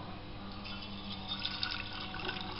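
Water is poured into a bottle of mung beans for sprouting, a faint, soft trickle and splash of liquid running steadily for a couple of seconds, close and quiet.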